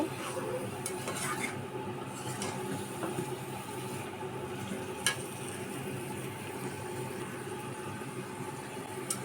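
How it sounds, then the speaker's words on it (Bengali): Country chicken sizzles steadily in a pan with ground spice paste while a utensil scrapes and stirs it in intermittent strokes, close up, with no talking. "এখন এটাকে মশলার সাথে ভালো করে আবার কষিয়ে নিব"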